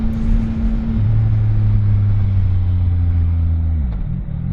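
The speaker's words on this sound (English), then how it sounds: "I can't believe the sound of this bike. It's a standard exhaust" A CFMOTO 675NK motorcycle with its standard exhaust idles with a deep, steady, loud rumble, then its pitch dips briefly near the end as the throttle shifts.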